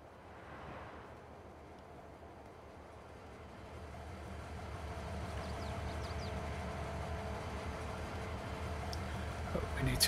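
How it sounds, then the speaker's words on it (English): A train in the Farming Simulator 22 video game rolls forward with a faint, low rumble that slowly builds in loudness across the stretch. "Train forward a little bit further."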